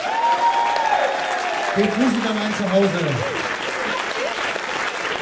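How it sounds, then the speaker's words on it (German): Theater audience applauding at the Komödie Dresden after a show, a steady dense wash of clapping throughout while someone speaks over it. "Nochmal einen Applaus spenden."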